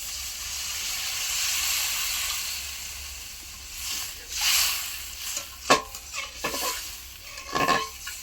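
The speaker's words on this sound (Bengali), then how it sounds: "এই সময় তো আমি জল দেব" Water poured into fried spice paste for a Bangladeshi prawn dish sends up a loud steaming hiss, which fades and gives way to bursts of sizzling and clattering stirring in the pan. No one speaks.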